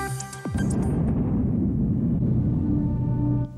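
A mining blast at the Aznalcóllar open-pit mine, run by Boliden Apirsa, bursts out suddenly and rolls into a deep, sustained rumble for several seconds before cutting off.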